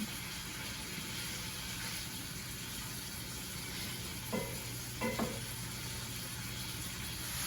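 Beef browning in a pan as moisture cooks off, a soft steady sizzle with a couple of brief scraping stirs of a utensil near the end, no voices.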